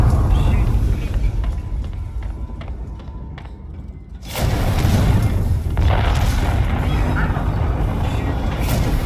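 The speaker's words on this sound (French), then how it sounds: "Ricardo, Ripley, l'explosion a bousillé les stabilisateurs orbitaux" A sudden deep boom bursts in partway through, followed by a loud sustained rumbling roar, after a quieter stretch with faint beeping tones.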